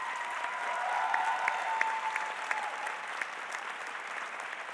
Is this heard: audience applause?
yes